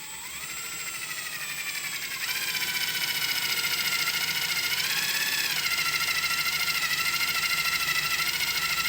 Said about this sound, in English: Use a self-tapping screw. Go ahead and get this secured down.